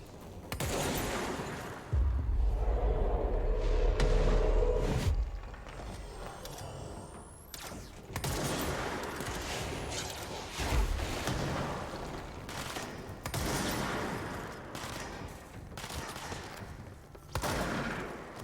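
Bursts of shotgun and other weapon gunfire in the video game Control, with loud rapid volleys and heavy booms that repeat in clusters over a dense, noisy combat soundscape.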